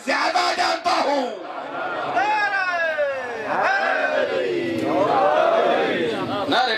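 A crowd at a Shia religious majlis gathering in Kohala Bala loudly shouts a slogan in unison, with a strong lead voice and rising, swooping cries over the massed voices, sustained throughout.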